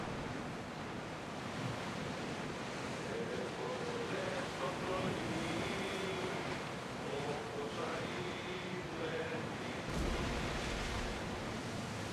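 Ship sailing through waves in Assassin's Creed Odyssey: a steady, broadband wash of surf and water rushing past the hull for the full length, with a faint voice murmuring underneath and a brief low thump near the end.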